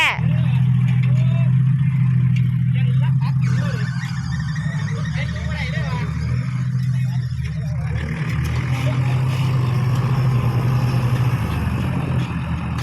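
A vehicle engine with a newly modified exhaust pipe idles loudly close by and is blipped and revved with a deep booming rumble throughout, and people talk and exclaim over it.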